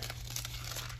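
Tape is peeled off during a mesh grill install on a BMW M2 G87, giving a brief, faint crinkling rasp over a low background rumble.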